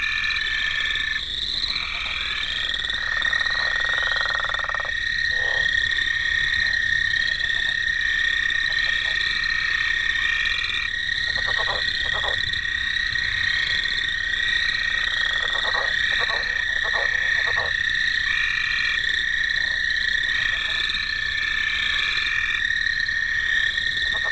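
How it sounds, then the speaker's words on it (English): Leopard frog calling steadily from nearby, a series of low snoring, rubbing croaks with bursts of rapid pulses, over a constant high whine of insects or other frogs in the background; no voices. "Here is an example of what the leopard frog sounds like."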